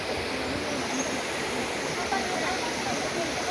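A waterfall on the Rumun Kondiu Hill hiking trail near Kota Marudu roars as a steady, dense rush of falling water, close and constant for the whole stretch.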